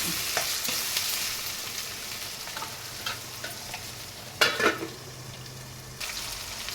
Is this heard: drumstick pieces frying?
yes